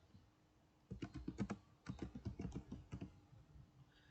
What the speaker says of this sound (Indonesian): di sini saya mengetik cd config